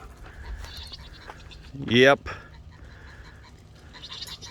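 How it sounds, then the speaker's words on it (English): A goat on a homestead lets out a single loud, quavering bleat partway through, standing clear above quiet outdoor background, with a brief spoken word nearby. "Uh-oh, I hear goats."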